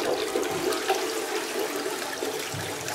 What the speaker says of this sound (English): I guess we could flush it.